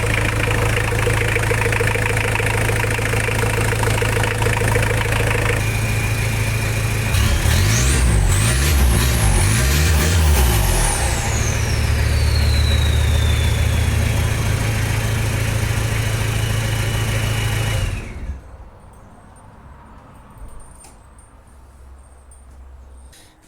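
A Mitsubishi L200 double-cab pickup runs loud and steady nearby, its idle shifting partway through. Revving swells and a rising then falling whine follow, and then the engine cuts off, leaving near quiet with faint clicks.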